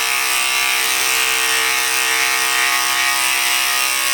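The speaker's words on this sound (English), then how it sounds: "That's a really noisy blade, too." An electric clipper blade grooms a Yorkie, giving a loud, steady, noisy buzz that runs unbroken and close up for the whole stretch.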